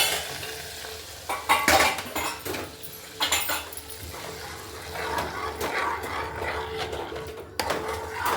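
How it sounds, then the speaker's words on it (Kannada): Cashew nuts sizzle in hot oil as a tempering for moong dal payasam, with a steady frying hiss and a few sharp spoon scrapes against the pan, close and fairly loud with no talking. "ಈಗ ಪಾಯಸಕ್ಕೆ ಗೋಡಂಬಿ ಒಗ್ಗರಣೆ ಹಾಕಿದ್ರೆ ಆಯಿತು."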